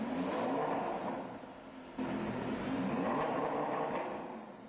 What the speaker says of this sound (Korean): 시동을 거는 순간 슈퍼카가 토해내는 우렁찬 배기음.